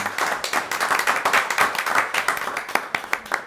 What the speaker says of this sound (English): can we clap and just be appreciative of those persons.